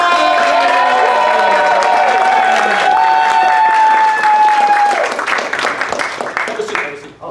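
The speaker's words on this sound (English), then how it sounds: "Please give a round of applause for Chris" A live comedy show audience applauds and cheers loudly for a guest, with whoops and voices over the clapping before it tapers off and the applause thins toward the end.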